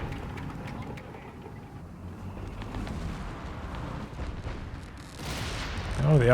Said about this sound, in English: Double IGs and the Nebelwerfer there popping off